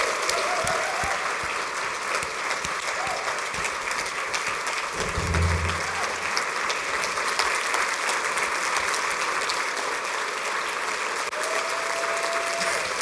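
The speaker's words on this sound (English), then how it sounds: "So I just wanted to give Jennifer a round of applause and thank her for all her hard work." Steady, dense audience applause at a symposium runs for over ten seconds, with a brief low thump partway through and faint voices mixed in under the clapping.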